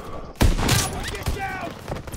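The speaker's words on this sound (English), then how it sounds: "Oh, a shotgun from the behind somewhere." Shotgun fire in the Call of Duty WWII video game during a Battle of the Bulge mission, a loud close blast followed by a burst of gunfire, with a voice talking over the action.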